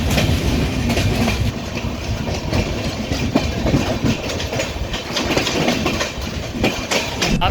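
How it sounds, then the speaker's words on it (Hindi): Tamil Nadu Express passenger train running at speed, heard from inside a three-tier economy coach: a steady loud rumble with rhythmic clickety-clack of wheels over rail joints, continuous throughout with no talking. "ये देखो अभी तमिलनाडु बस निकली है और एकदम से इसने स्पीड भी पकड़ ली है।"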